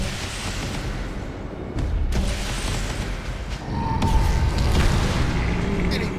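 An enemy explodes under hard arcane magic in the Magicka video game, a booming game blast that swells over steady battle noise and rumbles on briefly, with no voice over it.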